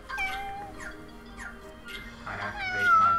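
A cat meows several times close to the microphone, its drawn-out rising and falling cries sitting over low background game sound, with the last call loudest and longest.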